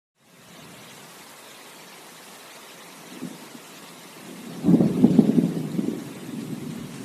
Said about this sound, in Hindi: हाय राम, ये बारिश तो और तेज हो गई।